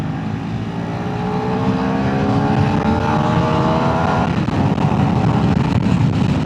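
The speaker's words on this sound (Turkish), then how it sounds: "motorun sesine bayıldım ya." A KTM 390 Adventure R motorcycle engine revs during a group ride, its steady loud drone rising in pitch with layered harmonics, overlaid by heavy wind rush for several seconds.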